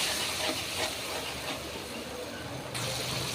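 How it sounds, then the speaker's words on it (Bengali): Water splashed into hot, well-fried spice masala for a fish curry gives a loud, steady hissing sizzle up close that fills the whole moment without a break. "তো এবার দিয়ে দেবো সামান্য জল"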